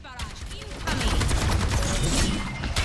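Rapid gunfire in the Overwatch 2 video game, a dense, loud burst of shots that steadies into continuous fire for most of the clip, with faint voices underneath.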